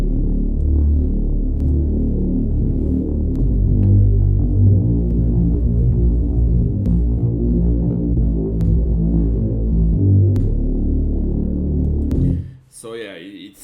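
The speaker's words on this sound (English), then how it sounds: "it's kind of subby, it's a Reese bass, it's aggressive, it's distorted" A loud, aggressive distorted Reese bass in a future garage production, with subby low end and detuned throbbing harmonics that swell and pulse for about twelve seconds before cutting off into a brief glitchy tail.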